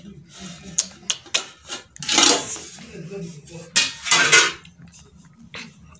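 Cooked rice is scooped and served onto a plate with clinks and scrapes of a spoon against dishware, a few louder rustling scoops among lighter taps, close up and under quiet talk.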